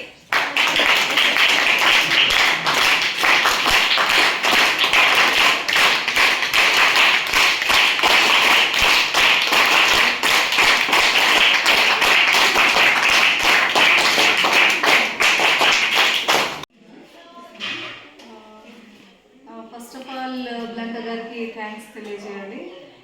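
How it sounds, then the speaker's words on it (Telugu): Students in a school hall at a district secondary school clap loudly and steadily for about sixteen seconds, then the applause cuts off and a voice speaks over quieter room sound. "claps one two one two three"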